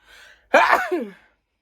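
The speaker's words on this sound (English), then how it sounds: "I'm going to sneeze" A single close sneeze, a soft intake of breath followed by a sharp burst that trails off, with quiet in between.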